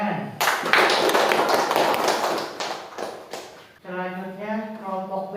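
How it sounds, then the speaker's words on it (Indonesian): A classroom bursts into brief, dense clapping for a student group after a presentation on electrical energy, lasting about three seconds before a voice starts speaking. "Tepuk tangan."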